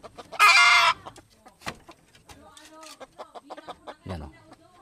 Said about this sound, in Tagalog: Ito naman yung mga lalaki o yung tandang.